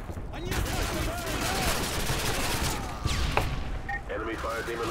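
Automatic rifle fire crackles in rapid bursts during a Call of Duty Modern Warfare 2 multiplayer match, loud and continuous with scattered single shots, while a player talks over the gunfire.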